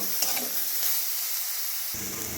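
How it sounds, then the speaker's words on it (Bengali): Eggplant pieces with bitter neem leaves frying in oil over high heat, a steady hissing sizzle close to the pan with a brief low stirring rumble near the end. "এইভাবে বেগুনগুলোকে খুব ভালো করে ভেজে নেব"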